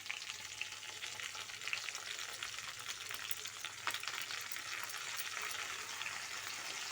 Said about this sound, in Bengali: এবার আমি দিয়ে দেবো আদা রসুন আর পেঁয়াজ বাটা।